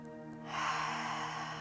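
A deep Wim Hof method breath: a forceful, airy breath swells in about halfway through and holds steadily to the end, close and clear over a quiet sustained tonal drone.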